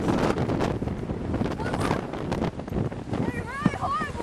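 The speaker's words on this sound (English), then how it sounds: "It's really horrible wind." Powerful gusts of about 40 mph sweep across Newport Beach, blowing sand along the shore, a constant roaring buffet that batters the microphone from start to finish while voices talk beneath it.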